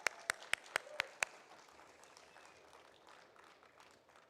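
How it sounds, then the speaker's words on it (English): At an agritech startup event, a handful of sharp, evenly spaced claps ring out near the mic, followed by faint, distant scattered applause from the audience. "A round of applause."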